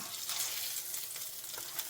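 Syrnyky, Ukrainian cottage-cheese pancakes, fry in a pan with a steady close hissing sizzle and small crackles, alone and without talk.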